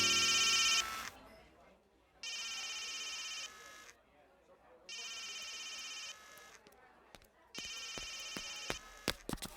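A telephone rings in repeated electronic bursts separated by pauses, each burst loud and bright, with faint clicks and movement in between and no clear speech.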